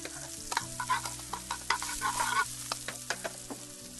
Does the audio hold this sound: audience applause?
no